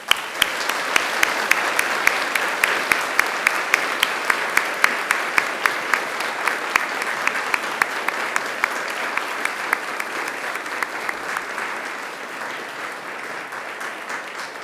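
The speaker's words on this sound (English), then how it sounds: "join me in giving them an almighty round of applause" A large crowd at a university graduation ceremony applauds steadily and continuously, with sharp individual claps standing out, fading slightly toward the end.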